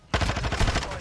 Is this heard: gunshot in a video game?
yes